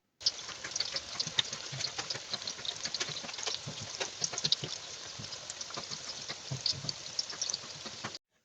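Medium-sized vegetable pakoras deep frying in a large wok, a soft, continuous bubbling crackle with scattered pops held at an even low level for about eight seconds before cutting off.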